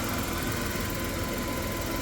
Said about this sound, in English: Engine sounds really good though. Nice and quiet, no knocking or ticking.